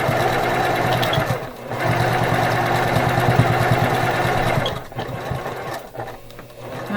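A sewing machine runs steadily back and forth, back-stitching seams on a fabric book pillow, its fast mechanical whir close and loud with two short pauses.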